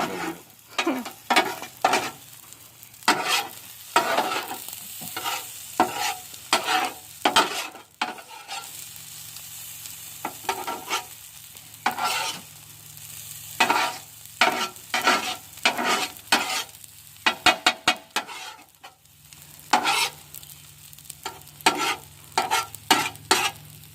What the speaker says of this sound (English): just tossing rice around on a flat stone grill